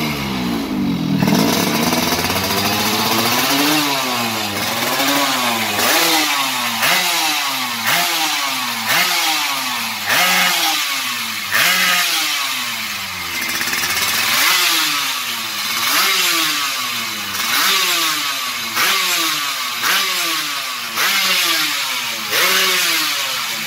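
A two-stroke Yamaha RX King motorcycle engine fitted with a YZ magneto is revved repeatedly in a regular rhythm, each blip climbing and falling in pitch, loud and close with a raspy, buzzing tone throughout.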